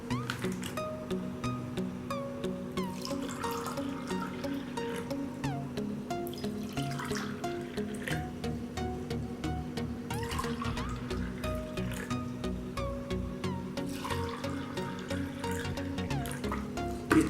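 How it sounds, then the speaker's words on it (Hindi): Water is poured from a container into four drinking glasses for a detergent demonstration, making steady trickling and filling sounds that repeat in regular bursts over a faint background hum. "इन चारों ग्लासेस में मैं पानी डालता हूं"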